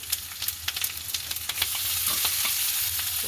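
Chopped onions and green chilies sautéing in a pan for a crab curry, a loud close sizzle with quick spatula stirring clicks that settles into a steadier fry.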